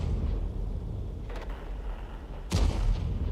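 Two deep cannon shots from a tank in a tank battle game, the second louder and sharper, with low rumbling game ambience between them.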